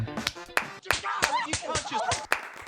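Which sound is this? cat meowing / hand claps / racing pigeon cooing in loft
hand claps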